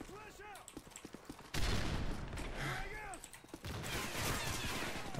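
Gunfire from an APP90 with Rapid Fire in a video game: quick, sharp automatic bursts mixed with other shots and game effects, fairly loud, with voices talking over parts of the action.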